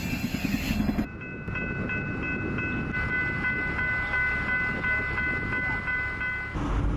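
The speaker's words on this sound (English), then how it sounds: "The Army operates a small fleet of its own locomotives." A US Army locomotive hauling a heavy freight train rumbles past with heavy rolling noise and a sustained tonal whine, steady and fairly loud throughout.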